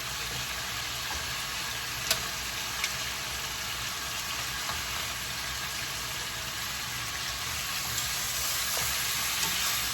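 A steady, hissing sizzle of chicken frying in a pan, constant throughout with a couple of faint pops.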